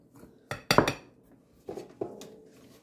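Clinks and scrapes of a utensil against a bowl while melted butter is mixed into a cheesecake crumb crust, in a few short bursts separated by quiet gaps.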